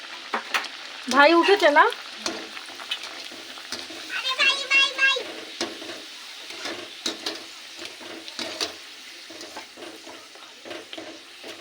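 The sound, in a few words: matar kachori (pea-stuffed luchi) frying and puffing in oil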